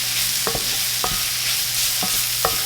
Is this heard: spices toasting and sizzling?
yes